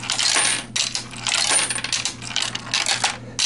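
Coins clatter and rattle continuously through a Mars TRC6800H single-price coin mechanism being tuned, a dense run of close metallic clinks and jingles with no talk.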